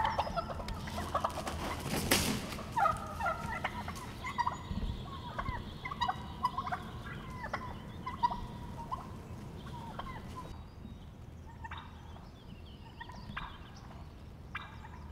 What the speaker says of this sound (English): Gobbles, kicks, and wing scrapes are all common things to hear as males duke it out